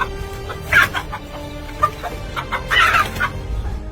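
A mother hen clucks loudly while defending her chicks from a cobra. Her clucks come in repeated agitated bursts, with the sharpest flurries near the start and again toward the end, over a low outdoor rumble.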